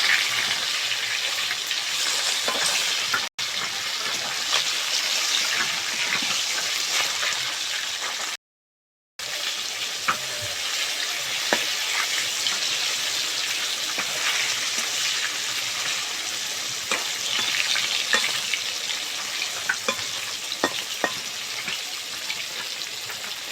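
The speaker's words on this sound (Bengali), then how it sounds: "এখন মাছটা একদিক ভাজা হয়ে গেছে" A large rui fish fries in hot oil in a pan, giving a steady bright sizzle with scattered pops and crackles, close and continuous apart from one brief gap.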